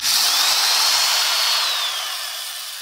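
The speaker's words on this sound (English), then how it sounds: "So let's try the drill now." A power drill runs on an inverter just repaired after a lightning strike, giving a steady high-pitched whine that holds close and loud, then eases slightly toward the end, with no talking.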